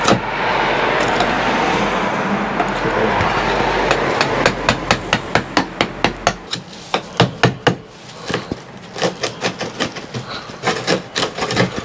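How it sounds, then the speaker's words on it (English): A hammer strikes a knock-in driver repeatedly while running cables through a wall, a steady, loud series of sharp knocks following a stretch of broadband mechanical noise; no talking. "what they call a knock-in driver"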